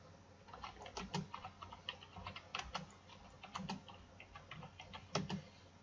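Computer keyboard typing while entering sales forecast data, with irregular clusters of close, crisp keystrokes and short pauses between bursts, no talking.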